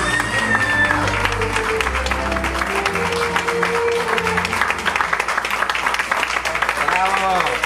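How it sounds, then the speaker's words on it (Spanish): Applause from a crowd at a quinceañera main waltz, steady clapping filling the room over background music, with a voice speaking over it. "Fuerte el aplauso, que se escuche"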